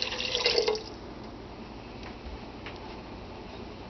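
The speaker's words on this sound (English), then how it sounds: "pour in the can of beef broth" A can of beef broth is poured into a pot of homemade chili. A brief, close splashing gush is followed by faint liquid trickles and soft drips in a quiet kitchen.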